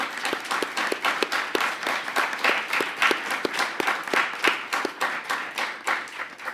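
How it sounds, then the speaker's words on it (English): A room applauds award recipients at a university alumni Founder's Day ceremony, with distinct individual claps standing out over a steady wash of clapping, moderately loud and continuous. "Can we have a round of applause for all of them?"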